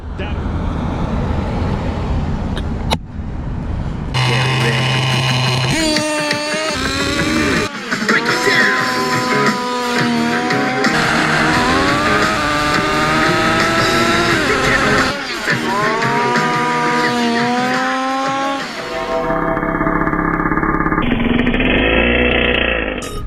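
A small HPI Nitro RS4-3 Evo Plus nitro RC touring car engine revs loudly and close, its high buzzing pitch climbing and falling repeatedly, with abrupt breaks between bursts.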